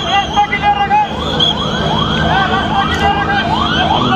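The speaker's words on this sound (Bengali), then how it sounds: "দেখতে পাচ্ছি ফায়ার সার্ভিসের গাড়িগুলো কিন্তু এখনও প্রবেশ করছে" Fire service vehicles arrive at a fire at an international airport cargo village. A loud wailing siren repeats its rising sweep about every half second, close by, with some traffic and crowd noise underneath.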